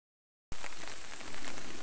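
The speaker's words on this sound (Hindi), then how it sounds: "बहुत ज़्यादा बारिश हो रही है, ओ माय गॉड।" Heavy rain falls as a steady, close hiss that begins abruptly after a short silence and carries on without talk.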